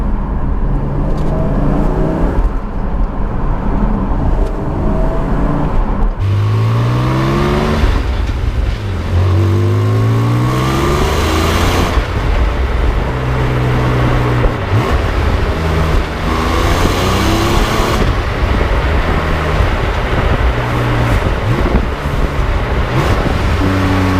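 A 2020 Porsche 718 Cayman GT4 engine revs hard and loud through rising gear pulls, with repeated climbing sweeps and brief drops between shifts, sustained and close throughout on a wet, muddy road.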